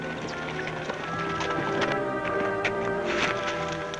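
Horses' hooves pound in a steady, rapid clatter on a trail in an old Western outlaw chase, continuous and moderately loud against a busy background.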